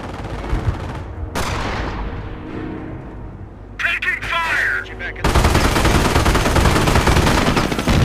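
Gunfire in the Company of Heroes video game during the Cherbourg battle: sharp shots and rattling bursts, then a dense, sustained volley of gunfire, with game voices briefly heard in the middle.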